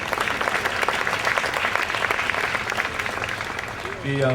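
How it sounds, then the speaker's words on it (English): Sustained applause from an audience, steady clapping throughout that fades near the end as a voice begins speaking. "give her a round of applause"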